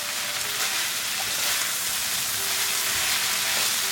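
Beef frying in oil over a high gas flame, a dense continuous sizzle with faint crackles, close and steady throughout.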